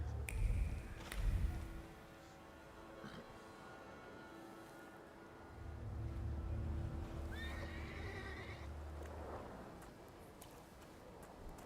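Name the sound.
horse neighing and hooves clip-clopping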